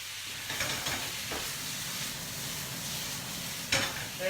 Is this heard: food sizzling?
yes